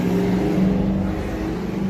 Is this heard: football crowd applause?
no